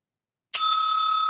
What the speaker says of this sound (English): The timekeeper will ring the bell twice